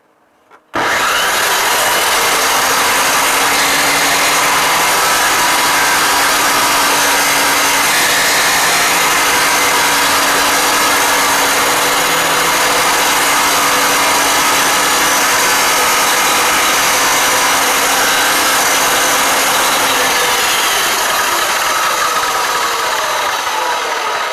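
A power tool cuts through steel rebar for a homemade DIY boat anchor, a loud, unbroken grinding roar that starts abruptly and holds steady for the whole stretch.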